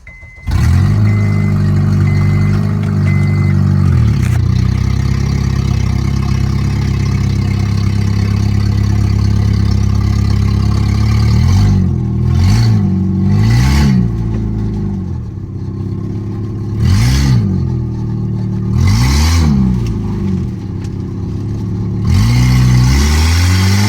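A rowdy 2012 muscle car engine idles loudly and steadily for several seconds, then is revved in a series of short, sharp throttle blips, each one rising and falling back to the burbling idle, close up and with no talking.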